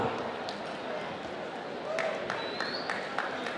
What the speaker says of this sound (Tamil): ஒரு கைத்தட்டலோடு அவங்களை மேடை கூப்பிடலாம்.